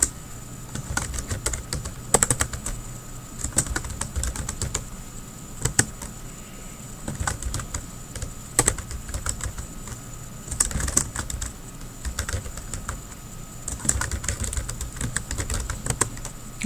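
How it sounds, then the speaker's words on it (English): Fingers type steadily on a computer keyboard while an inside address is entered for a business letter, with dense bursts of key clicks, short pauses and occasional heavier strikes on the space or return key, close and alone. "So I will begin typing the inside address or the recipient's address"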